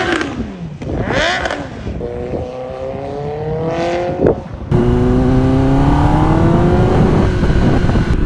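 A Kawasaki ZX10R sport bike fitted with a new aftermarket exhaust pipe revs loudly up close, sharp throttle blips climbing and falling before settling into a sustained high engine whine.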